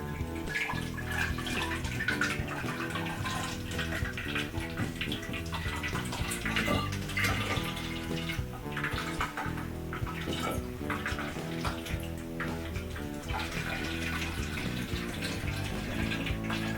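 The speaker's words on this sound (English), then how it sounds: "First, remove the lid from the bottle and then fill it with water." Tap water runs steadily into a SodaStream Fizzi bottle, a continuous close splashing rush of filling that lasts throughout.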